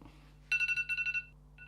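A mobile phone rings in short repeated electronic bursts, about eight quick pulses followed by a brief pause and another tone, fairly clear and close in a quiet room.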